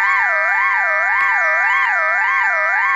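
An emergency alert system alarm tone from Gabon, a loud continuous electronic wail that rises and falls smoothly about twice a second, with no other sound.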